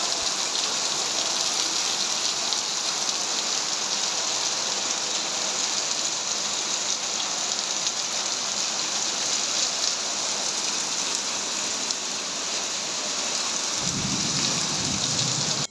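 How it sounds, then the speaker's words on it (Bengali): Steady rain falls throughout on a cool pre-Eid afternoon, a dense even hiss of drops on surfaces, with a low rumble of thunder swelling near the end. "আর এদিকে দেখুন একটু বৃষ্টি,"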